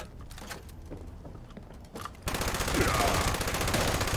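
Gunfire in the Fallout 76 video game, a quiet stretch of muffled thumps and clicks giving way to a loud, sustained burst of rapid automatic shots.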